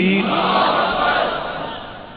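At a Mahfil-e-Milad religious gathering, a large crowd roars back in unison in response to the takbir call, a loud, sustained mass of shouting voices that slowly fades.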